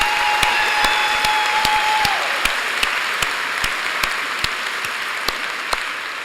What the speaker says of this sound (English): So that's the second applause.